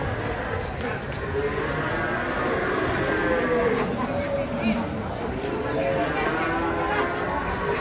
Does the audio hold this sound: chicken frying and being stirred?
no